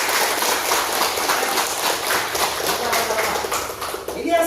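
Students in a classroom clap together in a steady, dense patter that holds for several seconds, with some voices mixed in.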